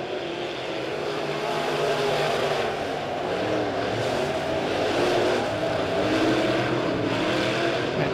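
B-Modified race cars roar around the Springfield Raceway oval during a Turkey Bowl B-Main, a continuous blended engine drone from the field with no talk.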